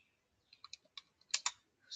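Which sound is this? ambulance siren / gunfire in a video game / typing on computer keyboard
typing on computer keyboard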